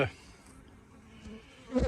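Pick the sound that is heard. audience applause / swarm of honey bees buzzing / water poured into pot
swarm of honey bees buzzing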